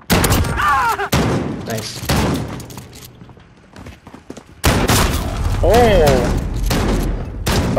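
Gunfire rattles in a video game gunfight tournament, with bursts of shots, a pistol among them, starting and stopping abruptly and loud up close, while players call out over the shooting.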